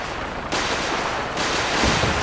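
Kismet kill box turrets in Fallout 4 fire in a rapid, dense burst, loud and close, rattling continuously for a couple of seconds with a sharp surge midway.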